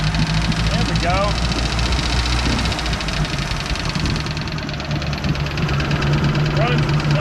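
An older boat engine, just started with a jump pack, idles steadily with a rough, knocking, vibrating chug close by, while people talk intermittently over it.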